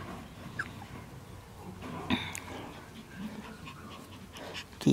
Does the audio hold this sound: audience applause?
no